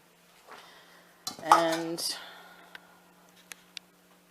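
New bowls handled and fitted together, a brief hollow clunk and scrape of one bowl nesting inside another, close and moderately loud, with a voice speaking alongside and a couple of faint taps afterward.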